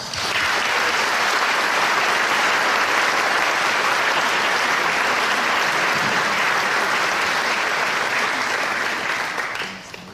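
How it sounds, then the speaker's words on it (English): Round of applause at a military mobilization ceremony honoring officers and sergeants major, a broad, even roar of many people clapping for about ten seconds before tapering off. "Please give them a round of applause."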